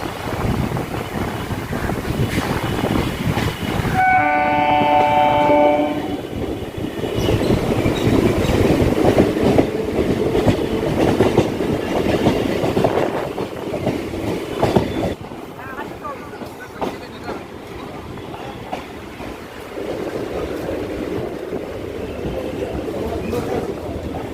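A Kolkata local train runs from Sealdah to BBD Bag, with a loud, steady rumble and rattle of the carriages, wind buffeting, and a brief horn-like tone early on. The noise eases somewhat in the second half, and voices may be faintly present.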